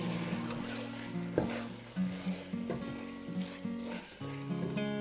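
Bhindi and tori being stirred with spices and tamarind pulp in a pan, soft scraping and stirring strokes over a low sizzle, with some tonal background hum, fairly quiet and close.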